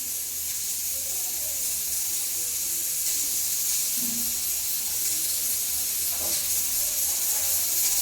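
A pressure cooker cooking mixed greens and lentils gives off a steady, loud steam hiss that runs without a break, with faint kitchen sounds underneath and no speech.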